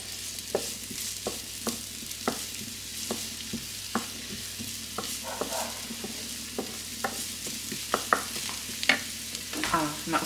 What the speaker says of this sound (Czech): Tady si osmažíme cibulku.